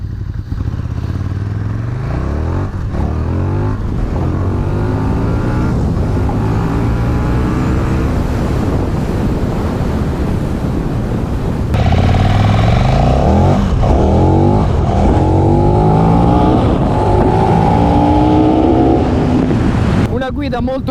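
A KTM 1290 Super Duke R motorcycle accelerates hard with traction control switched off. The engine roars loud and close throughout, its pitch climbing repeatedly through the gears and jumping to a higher, more intense note midway.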